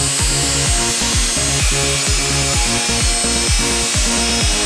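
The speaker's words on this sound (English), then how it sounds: "Next, you're gonna grind this all the way down until you can lever it off." A power grinder works steadily on the wastegate lever of a BMW 335i N54 turbo, giving a loud, continuous whine with a rhythmic grinding pulse that repeats about once per second.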